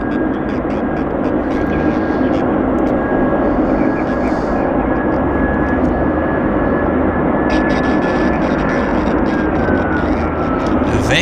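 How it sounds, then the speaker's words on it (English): An Air Canada Airbus A320 inbound from Las Vegas lands at Vancouver airport, giving a loud, steady broadband engine roar with a sustained whine that stays strong throughout, with faint crackling and radio-like sounds near the end. "Air Canada inbound from Vegas, Las Vegas."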